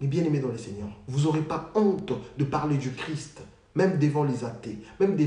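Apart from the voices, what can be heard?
No everyday noise stands out behind the speech.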